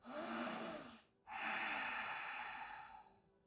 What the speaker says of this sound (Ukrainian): Глибокий вдих і м'яко праву руку переводимо в ліву долонь.